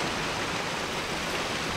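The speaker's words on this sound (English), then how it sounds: "Waterfalls." Steady waterfall ambience in the video game Kingdoms of Amalur at night, a constant broadband rush of falling water with no breaks, filling the scene evenly.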